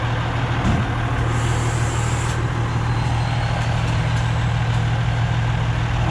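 A scrapyard truck that pulls trailers around the yard idles nearby, giving a steady, loud diesel rumble that holds unchanged throughout, with faint higher mechanical whine above it and no talk.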